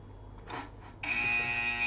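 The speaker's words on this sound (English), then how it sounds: "The buzzer is annoying." A buzzer in the Roblox Squid Game video game comes in abruptly halfway through and holds as a steady, loud electronic tone after a few muffled sounds.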